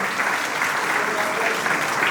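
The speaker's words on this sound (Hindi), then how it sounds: "जोर से तालियां पहले बजा दीजिए हमारी गेस्ट के लिए" At a play school annual day event, an audience claps loudly and steadily for a guest, a dense, even wash of applause with no break.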